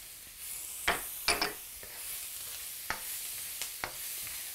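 Peas and turmeric powder fry in a pan, a soft steady sizzle broken by a few sharp scrapes and clinks of stirring at close range.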